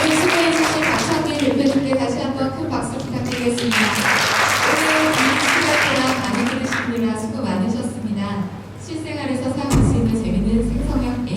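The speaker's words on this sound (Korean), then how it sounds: "큰 박수 부탁드리겠습니다" Audience applause at the close of a generative AI lecture event, continuous clapping layered with a speaker's amplified voice talking over it for most of its length.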